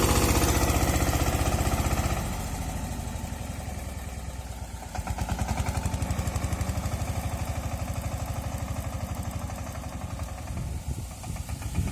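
A Massey Ferguson 5118 tractor engine chugs steadily up close while building earthen bunds in a farm field, with a rough, knocking diesel throb whose load shifts partway through.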